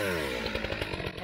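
A Stihl 661 chainsaw cuts into a big tree, its engine a loud, close, steady whine with rapid rhythmic chatter as the chain bites into the wood.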